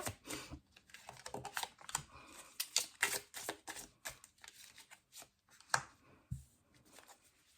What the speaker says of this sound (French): c'est un tirage en 5 cartes